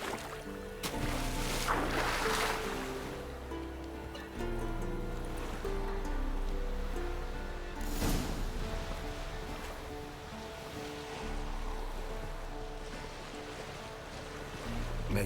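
Boat crossing a lake in The Witcher 3, a steady wash of water and hull noise with low rumble running throughout, swelling around two and eight seconds, with no talk over it.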